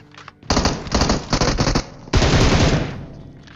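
Automatic gunfire in PUBG Mobile: several rapid bursts of loud shots in quick succession, then a sustained longer burst that fades out, close and dominant.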